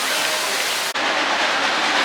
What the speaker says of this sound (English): Here comes the Frisco steam train.